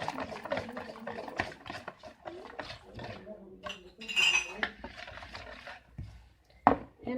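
Eggs being beaten hard in a bowl for a cake make a run of quick clinks and taps from the utensil, with a voice murmuring throughout.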